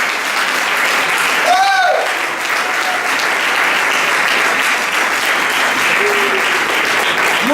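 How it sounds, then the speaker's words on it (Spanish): A church congregation at a Sunday service applauds loudly, with dense, sustained clapping filling the whole stretch and a brief whoop near the start. "Muchachos, aplaudan bien fuerte."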